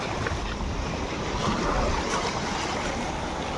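Ocean surf at a sandy beach near Puducherry, a loud, continuous rush of breaking waves mixed with wind noise, steady throughout without speech.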